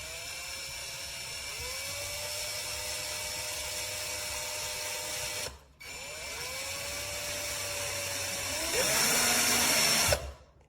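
A VIWKO 20V cordless drill drives bolts, its motor whining steadily for several seconds, pausing briefly, then running again and rising in pitch before it stops, heard close up.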